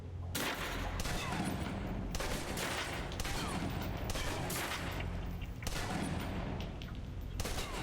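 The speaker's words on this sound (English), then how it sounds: "Now let's empty the clip. Let you get a feel for the recoil." A submachine gun in the spy game Alpha Protocol empties a full magazine, with dense, continuous automatic fire and several short breaks between loud bursts, heard alone.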